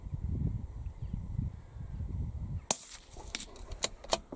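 An Anschutz 1710 rifle fires at a target outdoors, a single sharp crack partway through, followed by several softer clicks and knocks, over a low rumble of wind.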